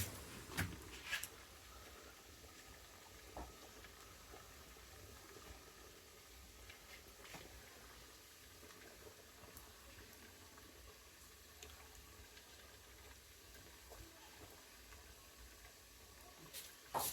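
Puli pitha dumplings simmer in a pot of water, a faint, steady bubbling hiss with scattered soft pops and clicks over a quiet background.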